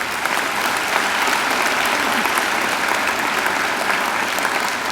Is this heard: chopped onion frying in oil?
no